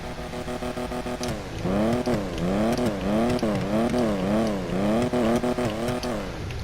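A Lampadati Casco sports car engine in GTA Online revs repeatedly in rhythmic rising and falling bursts, sounding close and loud, with a steady idle underneath.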